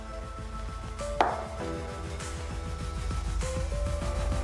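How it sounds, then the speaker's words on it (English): A knife trims the overhanging dough edge of a guava tart, giving a sharp scrape and thud followed by a run of rapid, even tapping strokes against the surface, close and clear with no talking. "you just cut the edge, all the dough that's hanging over"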